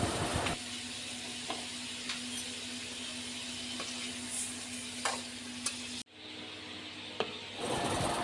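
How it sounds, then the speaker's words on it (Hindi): One kilo of chicken frying with a spoonful of cumin in a kadai, giving a steady close sizzle with occasional stirring scrapes and a brief break near the end. "कढ़ाई में 1 किलो चिकन डालेंगे और फ्राई कर लेंगे इसको।"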